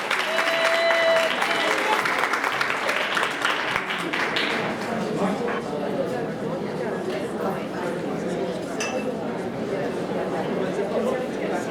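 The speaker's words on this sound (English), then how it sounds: "Round of applause for the Monkees, goddammit." Audience applause at a Monkees fan convention in 2014, a dense, continuous roar of clapping from a sizable crowd with chatter and voices mixed in throughout, holding steady for the whole stretch.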